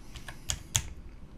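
Keystrokes on a computer keyboard while setting up a Divi website hover effect, a few quick taps with two louder clicks standing out, close and alone without speech.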